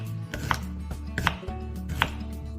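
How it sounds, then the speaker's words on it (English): A knife slices an onion into pieces on a board, giving three sharp, close chops spaced about a second apart over a steady low background hum. "we'll use that onion, piece like this, and we cut it into slices."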